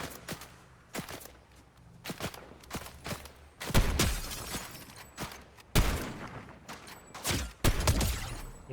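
Gunfire in the video game Fortnite comes as sharp, scattered bursts of shots, some single and some in quick clusters, with heavier booming impacts between them.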